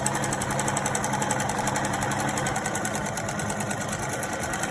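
A sewing machine runs steadily, stitching a three-layer fabric face mask with a constant close mechanical whir and rapid needle rhythm that holds throughout, with no talking.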